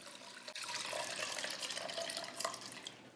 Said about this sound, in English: So I'm going to drain the mushroom, the residue from the water, because all I want is the water.